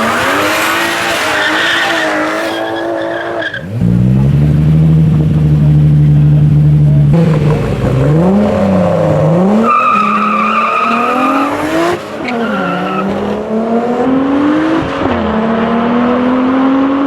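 A Butler-built BMW E30 with a turbocharged E36 engine and a BMW M135i race on the street. Loud engines rev and shift up through the gears close by, and tires squeal repeatedly.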